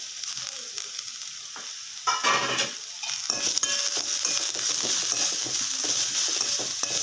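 Chopped onions and green chilli fry in a pan with a constant bright sizzle, joined by repeated scraping stirs and light clinks of a utensil against the pan.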